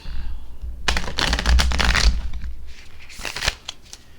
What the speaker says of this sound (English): they do shuffle well, which is nice